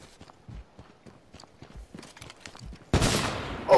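Sniper gunfire in the H1Z1 survival shooter: faint scattered shots and footstep-like clatter, then one loud, close crack with a rough echoing tail near the end.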